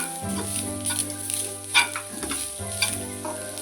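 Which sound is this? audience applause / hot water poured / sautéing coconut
sautéing coconut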